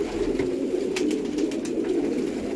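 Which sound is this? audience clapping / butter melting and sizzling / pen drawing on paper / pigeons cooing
pigeons cooing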